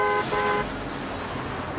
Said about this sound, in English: that honking for you, Miss Lindstrom